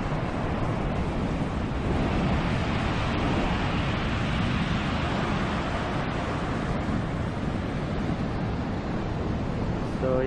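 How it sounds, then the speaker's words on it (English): Ocean waves breaking on Wollongong Beach in New South Wales, a continuous roaring wash of surf mixed with wind buffeting the microphone, steady and fairly loud with no talking. "And you can hear the sound of the waves."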